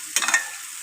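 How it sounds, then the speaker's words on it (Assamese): Half-fried onions with chilli and garlic crackle and hiss in a pan, a quick burst of stirring sizzle that fades into a soft, steady frying hiss, with no talking. "যেতিয়া পিঁয়াজখিনি ভাজি আধা ভজা হৈছে"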